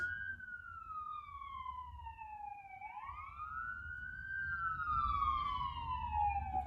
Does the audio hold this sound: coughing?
no